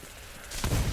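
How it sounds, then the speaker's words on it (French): A loud explosion goes off in the Cash Cleaner Simulator video game after a device is set and activated, a sudden burst that rises in the second half and stays heavy to the end. "Et paf, il y a une explosion."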